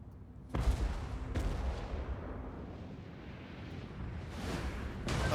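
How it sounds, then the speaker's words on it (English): Artillery firing in the battle game Total War: Warhammer 2: several heavy booms at uneven intervals, each with a sharp onset and a rumbling tail, over a continuous battlefield roar. "the artillery is already firing at them"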